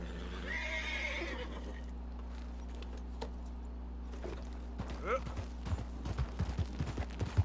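A horse in the video game Red Dead Redemption 2 gives a drawn-out neigh early on. Faint hoofbeats follow, then build into closer, louder clip-clopping gallop steps over a steady low hum.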